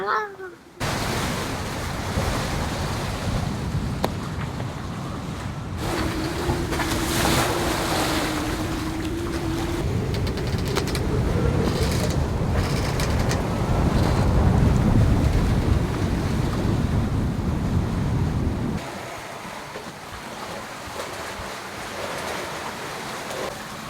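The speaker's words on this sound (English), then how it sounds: "we are sailing upwind, 30 degrees upwind at 14, 15 knots of wind" A sailboat beats upwind at about 30 degrees in 14 to 15 knots of wind in the Bahamas, with a constant loud rush of wind and water against the hull that eases slightly near the end.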